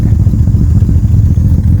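Loud, close exhaust of a Ford Capri 2.8 Injection idling with a slight misfire, a low, throbbing burble with uneven pulses that carries on steadily and has no talking over it.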